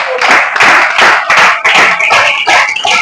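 A worship congregation claps together in praise during a morning prayer service, loud, dense and steady rhythmic hand claps filling the space for a few seconds with no talking.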